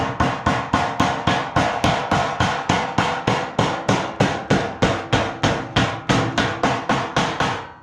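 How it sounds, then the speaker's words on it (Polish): Steady small-hammer taps around the edge of cardboard, about three per second, each a sharp strike with a short ring, continuing evenly and close up with no talking. "wziąłem sobie karton i tutaj młoteczkiem dookoła ładnie"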